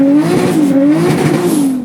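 A drift car's engine revs hard and close for about two seconds, a loud rasping tone whose pitch rises and dips repeatedly with the throttle.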